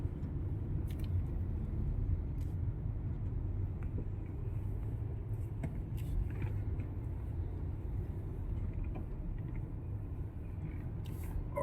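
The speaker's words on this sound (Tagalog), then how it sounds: "Grabe traffic." Muffled low rumble of slow-moving road traffic heard from inside a car crawling through a congested outer lane, steady and fairly quiet, with faint clicks and no talking.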